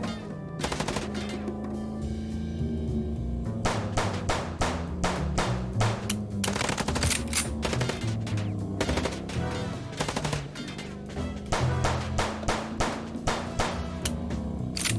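Gunfire in the video game Chicken Police rattles out in rapid bursts of sharp shots, loud and close, with short pauses between volleys and no talking.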